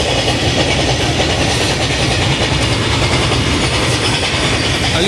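A goods train thunders through a crossing at Aligarh Junction, close and very loud, with a dense, continuous rumble and a rattle of wheels and wagons throughout, with no talk.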